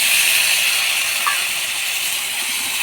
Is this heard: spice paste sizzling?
yes